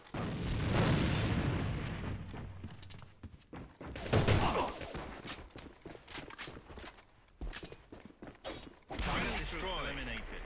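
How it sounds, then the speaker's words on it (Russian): Grenade blasts and bursts of gunfire during an Alliance of Valiant Arms match, loud booms rumbling out amid scattered shots, with short in-game voice callouts mixed in. "Бросаю гранату!"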